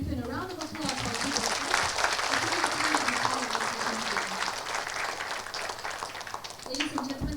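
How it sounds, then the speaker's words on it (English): An audience at the close of a health information session claps steadily for several seconds, with a voice speaking over the applause at the start and again at the end. "a big thank you and a round of applause"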